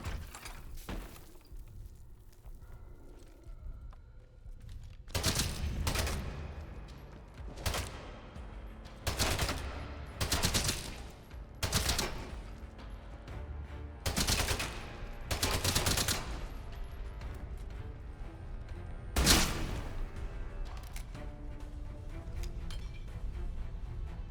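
Bursts of enemy gunfire in the video game Atomfall, several loud volleys of rapid shots spaced across the scene over a low ambient rumble, with no talking.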